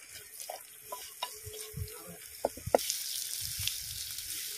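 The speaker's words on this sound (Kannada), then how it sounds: "ಹಾಗೇನೊಂದು ನಾಲ್ಕೈದು ಎಸಳು ಬೆಳ್ಳುಳ್ಳಿ, ಒಂದು ತುಂಡು ಶುಂಠಿ, ಹಾಗೇನೊಂದು ಎರಡು ಕಾಯಿಮೆಣಸು ಈ ರೀತಿ ಕಟ್ ಮಾಡಿಕೊಳ್ಳಿ ಹಾಕಿ ಇದೆಲ್ಲ ಒಳ್ಳೆ ಫ್ರೈ ಆಗಲಿ" Chopped garlic, ginger and green chillies frying in a pan for fish curry, a faint sizzle with scattered light clicks and scrapes of a spoon, the hiss growing brighter and louder toward the end.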